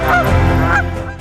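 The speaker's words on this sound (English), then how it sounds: "They honk to encourage each other." Geese honk in flight, several loud, close calls overlapping within about a second with no talk.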